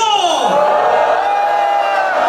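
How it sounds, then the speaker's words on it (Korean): A crowd cheers and shouts loudly and continuously at a 2024 legislative report rally in Changwon for lawmaker Heo Seong-mu, a dense wall of voices with a high whooping cry sweeping through it. "손 한번 흔들어주시면서 허성무 의원님을 사랑하는 만큼 소리 한번 질러주십시오"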